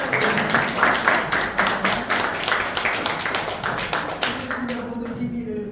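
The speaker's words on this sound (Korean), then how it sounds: "두 분 다 다시 한번 두 분 박수" Audience clapping for two lecturers at a pioneers' day event, loud, close, rhythmic claps in a steady beat that thins out and stops near the end.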